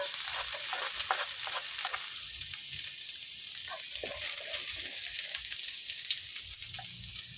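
Garlic frying in hot cooking oil in a pan, a steady dense sizzle with fine crackling and popping that holds at an even level throughout, close and continuous with no talking.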